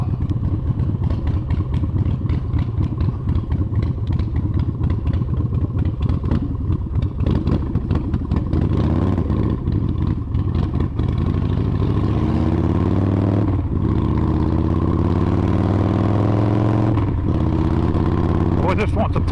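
A Big Dog motorcycle fitted with a 585 cam rides and revs hard, its loud engine roaring continuously close by with rising and falling pitch as the throttle opens and eases off.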